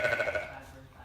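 A mother goat on a farm with baby animals gives a single short bleat, close and fairly clear, fading into quiet barn ambience within about a second.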